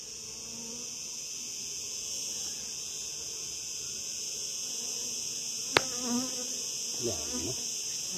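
Honeybees buzz steadily and loudly at an open hive frame, a dense continuous drone close by with a brief sharp tap partway through and no talking.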